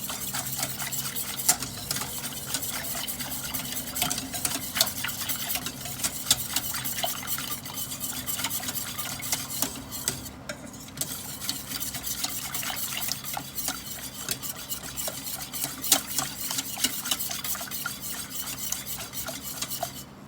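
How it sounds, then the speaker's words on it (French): Steady spoon-in-pot stirring of a chocolate cake batter heating on a stovetop, a continuous scraping and swishing with faint sizzling underneath, close and even throughout with no talking. "J'arrête pas de mélanger."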